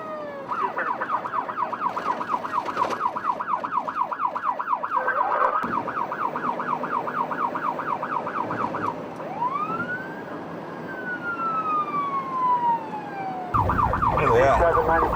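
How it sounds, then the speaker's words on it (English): Modesto police car running code 3 with lights and siren to a shooting, its siren cycling rapidly in a fast yelp, then sweeping in a slower wail before snapping back to the quick yelp, loud and close. "Evers responded code 3, meaning responding with lights and sirens to a shooting at the quick stop at Paradise and Carpenter."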